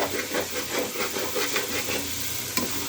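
Potatoes with dried fenugreek leaves are stirred in a frying pan, the spoon scraping in a regular rhythm over a constant sizzle and hiss, ending in one sharper knock near the close.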